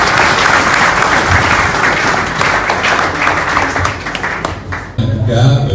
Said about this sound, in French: Vos applaudissements, bien sûr.